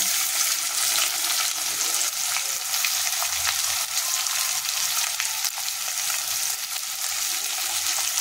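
Onion frying with chili and garlic in a pan, giving a dense, loud, continuous sizzle that stays even from start to finish, with a few faint stirring scrapes.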